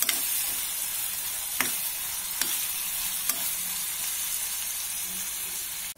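Onions frying in oil with curry leaves for an egg tomato curry: a steady broadband sizzle runs throughout, broken by a few sharp scrape clicks from a stirring spoon, ending abruptly.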